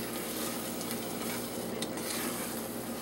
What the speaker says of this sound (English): Make sure you stir this, because as you can see, it was trying to stick right there.